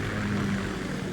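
A Kamov Ka-60 Kasatka helicopter in the game Metal Gear Solid 2 gives a steady, faint rotor and engine drone with a low hum that holds without a break.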